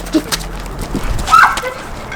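A dog that has been provoked lets out short barks and whimpering yips close by, with faint human voices and movement around it.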